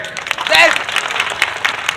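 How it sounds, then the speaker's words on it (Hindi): Crowd applause at an outdoor candle march against a deemed university in the Andaman and Nicobar Islands, steady clapping lasting about two seconds with a voice rising briefly over it. "मैं चाहूंगा जोरदार तालियां राकेश भैया के लिए"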